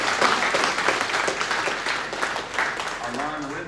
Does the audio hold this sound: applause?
yes